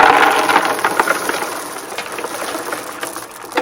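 River rocks spill and clatter into a planting container, a dense rattling cascade that starts loud and gradually thins out, with a final small knock at the end.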